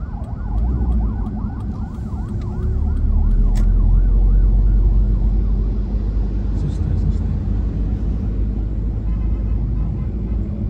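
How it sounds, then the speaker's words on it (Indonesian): An ambulance siren wails, rising and falling quickly over heavy street traffic in Makassar, Indonesia, then fades as the ambulance moves away. "ini ada ambulans lewat"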